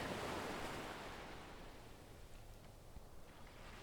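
Ocean surf washing in, a broad rushing wash that swells loud at the start and then eases into a softer, steady hiss of receding waves.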